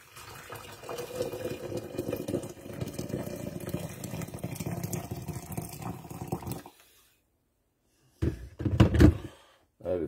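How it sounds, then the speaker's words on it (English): Hot water from a Formula Ready maker set to 185 degrees is poured for coffee, a steady rushing stream lasting several seconds before stopping, followed by a couple of short clunks. "It's hot water from the Formula Ready"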